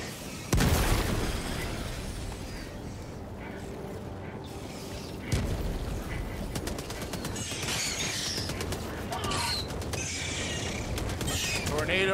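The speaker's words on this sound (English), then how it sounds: "Grenade!" Grenade blasts in the video game Helldivers 2, with two loud booming bursts, one early and one midway, over ongoing rumbling battle noise and scattered voices.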